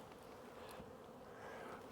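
Honeybees in hive boxes during spring colony preparation, a close, continuous droning buzz from many bees, steady and full throughout with no talk.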